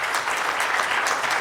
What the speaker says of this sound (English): So can we give them one more quick round of applause?